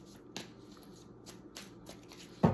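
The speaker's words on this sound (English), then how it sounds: "One more shuffle" Soft papery riffles and taps of tarot cards being shuffled, a few short bursts spaced apart, ending with a louder flick close by.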